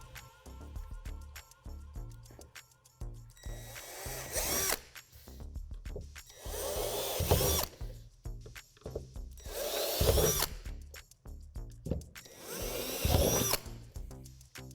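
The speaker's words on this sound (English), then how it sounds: "we're going to drill out 4 dimples with the drill bit provided" A power drill buzzes in four separate bursts of a few seconds each, drilling out dimples in a plastic playhouse panel, close and fairly loud, grinding through material with quiet handling noise between.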